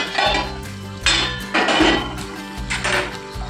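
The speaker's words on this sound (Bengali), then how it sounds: "দেখো বন্ধুরা, ঢাকনাটা এবার খুলছি।" Metal lid lifted off a cooking pot of simmering pointed gourd, several sharp clanks and clinks of metal on metal in quick succession, close and fairly loud, with no talking.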